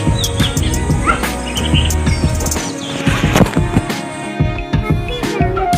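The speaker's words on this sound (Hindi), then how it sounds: "प्लस चिड़ियों की इतनी चहचहाने की आवाज़ होती है ना" Lively chirps and tweets from several birds fill a village morning, bright and close, with irregular bursts over a steady background of insect buzz and faint household clatter.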